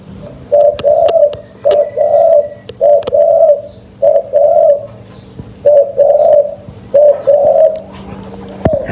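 A caged wild decoy dove, a fighting bird offered for sale, coos in a steady series of low, rounded phrases, about nine repeated bursts close by with brief pauses between, alone over faint background hum and a few sharp clicks.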